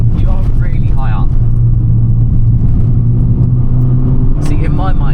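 Fiat 500 city car engine idling and pulling during a launch control start, a steady low rumble running throughout with voices talking over it.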